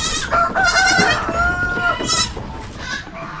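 Goats on a farm bleat in loud, wavering calls close by, several cries overlapping, with clucking fowl and background farm noise around them.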